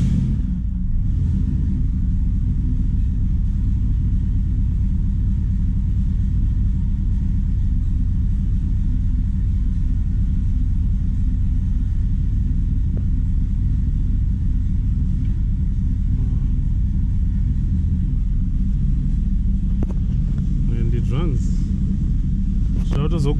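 A drag racing car's engine, cranked with a secondary pump switched on for testing, roars in a loud, continuous low rumble that dominates throughout, with brief voices in the background.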